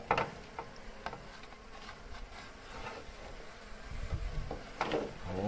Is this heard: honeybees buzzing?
yes